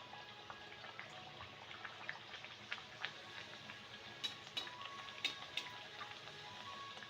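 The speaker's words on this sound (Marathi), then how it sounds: "आपलं तेल छान तापले आता आपण पुऱ्या तळून घेऊया" Puris frying in hot oil for Akshaya Tritiya, a faint, steady bubbling sizzle with scattered small crackles and pops, no voices over it.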